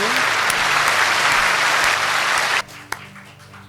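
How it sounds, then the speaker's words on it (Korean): A Sunday worship congregation applauds together in a dense, loud burst that holds steady, then stops abruptly, leaving one stray clap in the quiet that follows. "박수 한번 칩시다."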